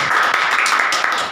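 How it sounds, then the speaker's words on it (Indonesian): A church congregation claps together in a dense, steady burst of applause that fills the room for a moment before it fades. "Kasih tepuk tangan dulu buat Tuhan kita"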